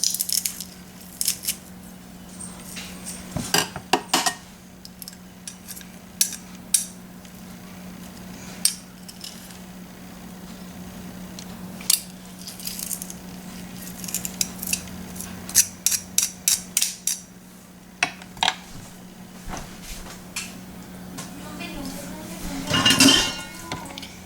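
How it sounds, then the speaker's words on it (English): Garlic cloves squeezed through a garlic press for stuffed peppers, a run of sharp metallic clicks and clanks with bursts of rapid clatter over a steady low hum, quiet stretches between. "I've got 3 garlic cloves here that I'm going to be pressing in"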